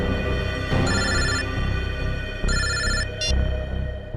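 A telephone rings in a tense indoor scene, its bright electronic ringtone sounding in repeated bursts over a steady background music bed, fairly close and clear with no talk.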